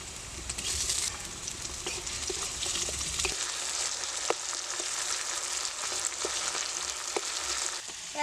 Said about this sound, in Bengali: টমেটোটা একটু লাল লাল করে ভাজতে হবে